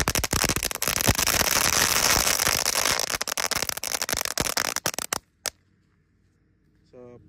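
Firecrackers and colorful fountain fireworks crackle in a dense, loud, rapid stream of popping for about five seconds, then cut off abruptly into near silence with a faint voice afterward.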